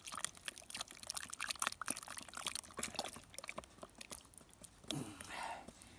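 Casting material dissolves and fizzes in water while a track cast is mixed outdoors in the Adirondacks, giving a faint, close crackling of bubbles with a brief wet pour or slosh near the end.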